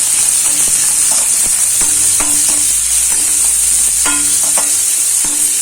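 Chopped large onion sautéing in a pan with curry leaves for a banana flower curry, a constant bright hiss with clinking spoon taps and stirring scrapes scattered through it, close and loud.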